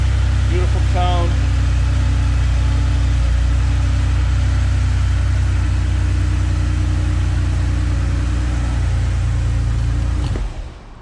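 A 1985 Porsche 911 Coupe with 9,478 miles idles steadily nearby, its low even engine hum running continuously before cutting off abruptly near the end.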